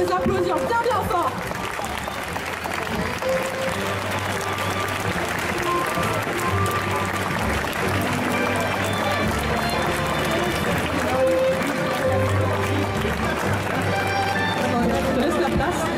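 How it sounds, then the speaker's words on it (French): An indoor festival audience applauds cosplay contestants at a Saturday costume competition, with steady clapping and crowd noise under a loud, busy hall mixed with music and chatter throughout. "vous pouvez les applaudir bien bien fort"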